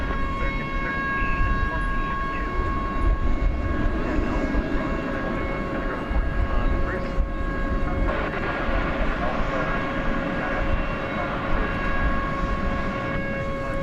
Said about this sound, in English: That is a Dreamliner -9.